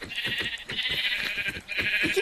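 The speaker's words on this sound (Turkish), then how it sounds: "Aa koyun." Sheep bleating repeatedly in Minecraft, quick, wavering calls, close and clear, over a light patter of background sounds.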